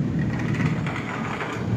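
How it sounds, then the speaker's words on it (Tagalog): Heavy rain from Typhoon Dante in the Philippines falls steadily in a dense, even wash with a low rumble beneath, moderately loud and continuous for the whole stretch. "Lakas po ng ulan din eh."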